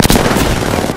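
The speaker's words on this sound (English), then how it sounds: "Shots fired." Gunfire in Apex Legends, a loud burst of rapid shots close up with dense, continuous cracks over about a second.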